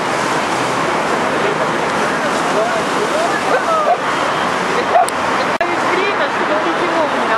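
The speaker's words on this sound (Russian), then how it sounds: "Ой, какие волны." Mediterranean Sea waves wash steadily onto the shore at sunset, a continuous broadband surf roar with wind, loud and close, with a couple of brief knocks near the end.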